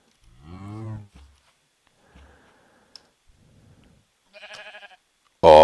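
A sheep in Minecraft Java 1.16.5 bleats in a short, wavering call near the start, followed by quieter game clicks and a few brief, louder game noises.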